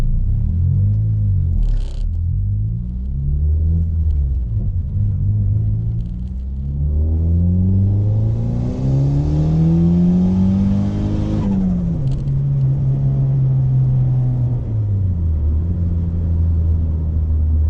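Turbocharged Honda Accord engine pulling hard under boost, a loud close-up rumble whose pitch climbs steadily through the gears over several seconds, drops at a shift, then holds a steady drone; no talking.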